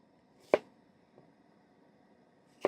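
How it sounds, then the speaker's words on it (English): A knife cutting through an onion with the grain at a trail campsite, two crisp chops a couple of seconds apart with a faint tap between, close and otherwise quiet. "Crack through the onions here."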